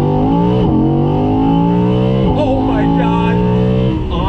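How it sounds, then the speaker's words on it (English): A 2020 Audi R8 Spyder's V10 accelerating hard on throttle, heard from the cabin with the rear window open: a loud, dense engine roar that climbs steadily in pitch, with brief dips at gear changes. "that linear power, deep down grunt of that V10, and the sound is just second to none"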